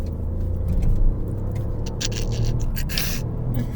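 A Ford Focus drives along in second gear at about 20 mph, a steady low road and engine rumble inside the car with a few brief rattles and scrapes, no voices.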